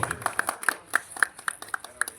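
Light, scattered applause from a small audience at a Republic Day ceremony: a dozen or so crisp, separate claps in an uneven rhythm, fairly faint and with no cheering.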